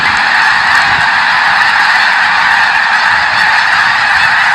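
A huge flock of snow geese at Bosque makes a loud, dense honking din overhead, many overlapping calls forming a constant wall of sound throughout, with no talking.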